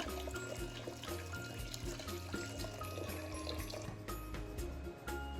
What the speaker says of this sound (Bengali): চালটা ধুয়ে নিই তাহলে